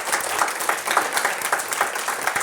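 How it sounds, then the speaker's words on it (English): Press conference crowd applauding Margot Robbie, a brisk, continuous patter of many hands clapping at close range, fairly loud and unbroken for a couple of seconds without speech. "Huge round of applause, please, for Margot."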